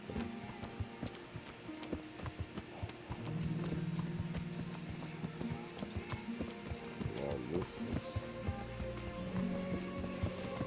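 Hooves clip-clop steadily as a horse moves through the medieval world of Kingdom Come Deliverance, the footfalls soft and fairly even against a background of game ambience with faint creaks and a low drone.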